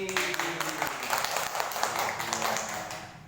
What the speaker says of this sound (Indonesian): Tepuk Olive.